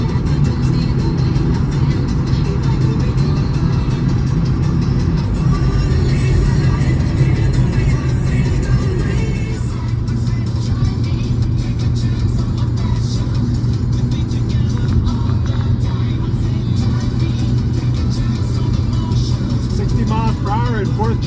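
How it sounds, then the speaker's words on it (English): A car floored in fourth gear while climbing a steep mountain pass, its engine holding a loud, continuous, strained drone close to the cabin for the whole stretch. "In 4th gear, flooring it to get to the top of this pass."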